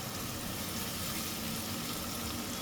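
Ingredients for a white chicken curry sauté with a pinch of salt in a pan, giving a dense, even sizzle that holds steady throughout with no talk.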